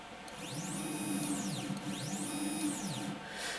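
The X-axis stepper motor of a mini CNC lathe jogs back and forth, making two rising-then-falling whining sweeps over a low hum, fairly faint and close, with no talk.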